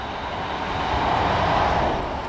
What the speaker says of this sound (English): There's a train coming from Sheffield.